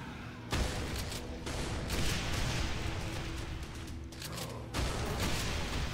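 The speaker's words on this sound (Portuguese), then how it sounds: "Esqueci que o raio das explosões está aumentado nesse jogo." Rapid explosions and gunfire from the video game Doom, a loud, dense barrage of blasts with brief pauses between volleys, with no talking.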